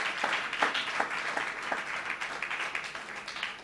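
Church congregation applauding its drivers, steady dense clapping at a moderate distance that holds evenly throughout with no voices rising above it.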